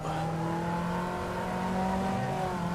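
A Caterham race car at the Spielberg circuit, its engine held at steady high revs with a constant loud drone and whine, close by with no break, under a faint voice.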